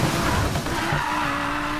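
An Audi R8 drifting in the racing game Need For Speed Payback, its tires skidding and squealing loudly and steadily under engine roar for under two seconds, with no talk.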